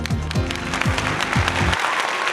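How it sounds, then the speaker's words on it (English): A canned applause effect from a soundboard bursts out with crowd clapping mixed with repeated sliding whooping tones, then thins to clapping alone near the end. "An applause."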